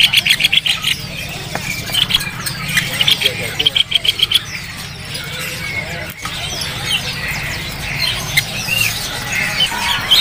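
Caged birds at a bird-selling kiosk in Jepara, including coffee birds and Sri Gunting, chirp and squeak in quick repeated bursts while a person talks continuously over them.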